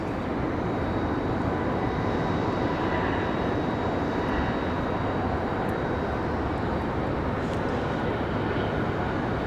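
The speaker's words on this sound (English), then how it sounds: "So we have United pulling into the gate." A United airliner taxis into the gate at Raleigh Durham airport, its jet engines a steady broad roar that holds at an even level from start to finish.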